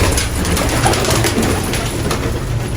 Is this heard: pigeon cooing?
yes